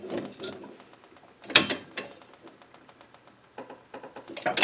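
Wrench tightening a threaded fitting on a homemade kegerator tank, heard as close, irregular metallic ratcheting clicks and clanks in short bursts with small gaps, no talking.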